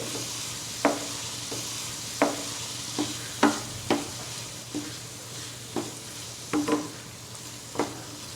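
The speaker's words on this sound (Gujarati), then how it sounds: "સાબુદાણા લઈશું સાબુદાણાને મેં બે કલાક પહેલાં પલાળીને રાખેલા હતા બધું જ બરાબર મિક્સ કરી લઈએ" A spoon stirs soaked sabudana (tapioca pearls) mixed with a spice paste in a pan, giving a series of soft, irregular wet clicks and scrapes over a quiet low background hum.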